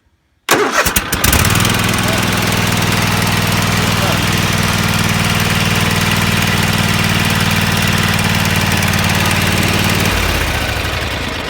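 A riding lawn mower engine starts and settles into a loud, steady idle close by, running continuously for about ten seconds.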